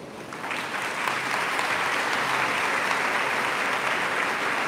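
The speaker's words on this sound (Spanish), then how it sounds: "Les pido un aplauso para ellos dos." Dense, sustained applause from a sizable church audience fills the space, rising quickly and holding at an even, loud level.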